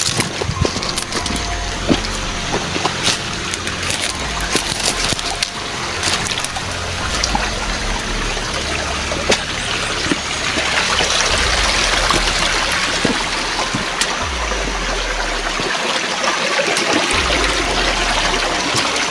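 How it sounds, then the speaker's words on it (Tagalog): River water in a video game flows with a steady rushing, trickling wash, loud and continuous, with scattered splashes and clicks over a low rumble. "Babaybayin natin itong ilog na ito"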